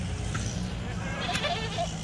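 A Kathiawadi goat bleats several times while being unloaded from a vehicle at a goat sale, short calls heard close amid someone talking.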